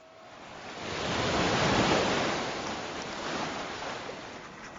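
Sea waves at sea, a soft broad wash of surf that swells and recedes in one slow surge, faint and distant with no voices.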